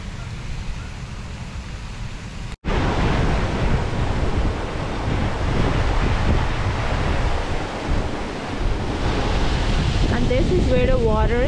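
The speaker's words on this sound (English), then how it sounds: "Just love to hear the sound of the water. Listen to that." Steady, loud rushing water fills the whole stretch with a dense roar after a brief cut near the start, like a nearby waterfall or fast stream.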